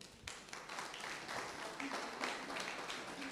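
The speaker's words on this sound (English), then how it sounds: "You deserve a round of applause" Applause from attendees at a PCRC Edo State Command gathering, a steady wash of clapping hands lasting a few seconds, moderately distant with a faint voice mixed in.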